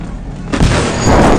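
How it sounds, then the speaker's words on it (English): A tank cannon fires in the World War Heroes video game, a sudden loud boom that opens into a sustained broadband rumble of battlefield gunfire lasting about a second. "Oh, that's a tank."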